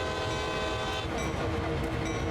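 A locomotive horn sounds at a whistle board on Sand Patch Grade in Train Sim World 2 in ice and snow, one long loud sustained blast over a low rolling rumble of the train.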